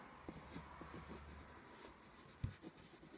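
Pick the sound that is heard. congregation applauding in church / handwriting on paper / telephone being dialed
handwriting on paper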